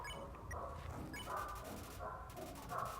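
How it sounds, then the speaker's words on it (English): A dog howls in drawn-out, wavering tones, with a few short yips breaking through amid moderate background noise. "Howling with joy."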